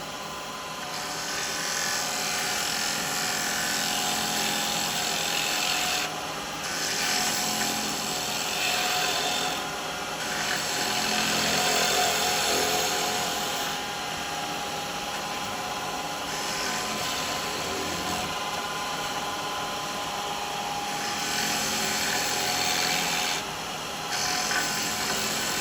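Wet wood being turned on a lathe with a 6mm carbide tool, shaping a miniature cowboy hat; a steady, close scraping and rasping cut runs throughout, with brief pauses where the tool lifts off.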